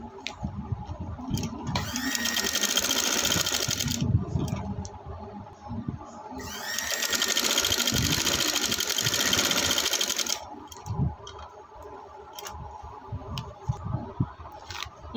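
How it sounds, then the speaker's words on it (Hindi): Double stitching on a garment sleeve with a sewing machine: two long, steady runs of fast mechanical whirring and clatter, separated by a short pause, close and loud. "अब हम इसको डबल सिलाई कराएंगे।"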